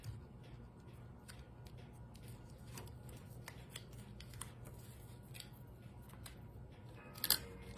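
Scissors cut paper in half, faint, scattered snips and rustles close by in a quiet room, with a sharper crinkle near the end.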